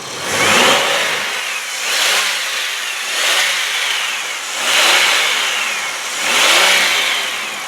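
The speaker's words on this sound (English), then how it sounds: "I'm going to rev this up for you" A 2002 Chevrolet Impala engine revs up five times in a steady rhythm, each rise swelling loudly then easing back toward idle, with no talking.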